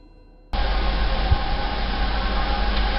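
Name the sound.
distant train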